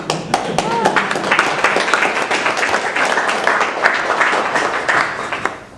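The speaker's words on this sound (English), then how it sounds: "Thanks for clapping." Audience at a talk on the art and animation of Pee-wee's Playhouse clapping steadily for several seconds, a dense, fairly loud patter of many hands with a few voices mixed in.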